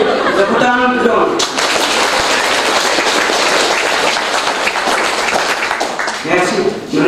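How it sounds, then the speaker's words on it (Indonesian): Wedding guests applaud during a church blessing ceremony, loud and steady dense clapping filling most of the stretch, with brief voices and a little laughter at the start and end. "Tepuk tangan dong."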